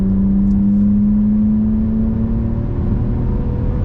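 A Toyota Camry XSE V6 accelerating hard in third gear gives a loud, sustained engine drone whose tone climbs steadily, heard from inside the cabin with road rumble underneath.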